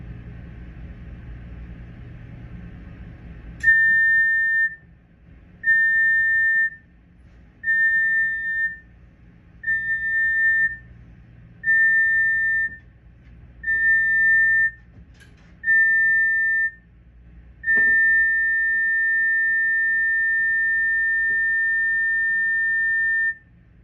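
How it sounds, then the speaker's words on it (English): A cruise ship's general emergency alarm sounds aboard the Star Princess: seven short, loud, steady tones spaced evenly, then one long sustained tone, all after a brief stretch of low background hum. "The signal that was just sounded was the general emergency alarm."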